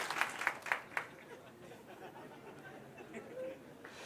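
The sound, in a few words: audience clapping at a talk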